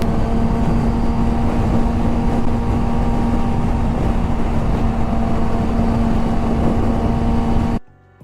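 A 2007 Yamaha R6 motorcycle engine drones at a steady pitch while riding, loud and continuous with wind rush, then cuts off abruptly near the end.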